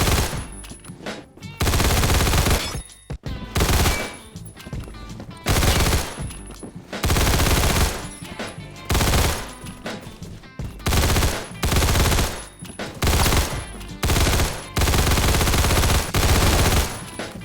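Video-game gunfire in Phantom Forces from a gun with an extended magazine: loud full-auto bursts of two seconds or so, repeated with short breaks between them, and no talking.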